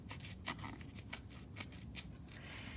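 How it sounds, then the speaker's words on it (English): Scissors cut a long strip while making a reading and writing aid: a steady run of about nine crisp, quiet snips follows in close succession with nobody talking. "now I'm going to cut a long strip"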